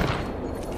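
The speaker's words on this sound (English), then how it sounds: "I'm taking shots." Gunfire in Apex Legends on the Kings Canyon map, a short dense burst of shots under a busy, noisy game mix.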